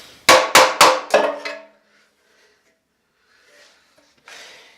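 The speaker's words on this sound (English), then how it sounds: "I'm just going to give a couple of quick whacks in the center here, just to try to reverse that dent a bit." Four sharp hammer whacks in quick succession strike the center of a dented engine oil pan on a 401 Nailhead, each ringing briefly with metallic decay, followed by near silence and faint shuffling.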